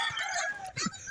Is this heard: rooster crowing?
yes